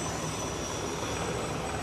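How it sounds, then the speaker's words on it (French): A Tigre military helicopter flying low over the Esplanade des Invalides in Paris during a Bastille Day special forces demonstration, a steady loud rumbling roar that fills the whole stretch with no talk. "à bord de l'hélicoptère Tigre qui est en train d'arriver sur l'esplanade des Invalides"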